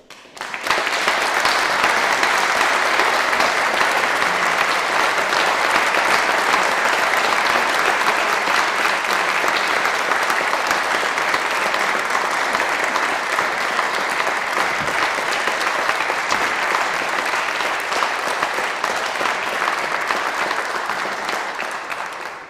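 An audience claps loudly and steadily at a British Empire Medal investiture ceremony, with dense sustained applause lasting about twenty seconds before tapering off.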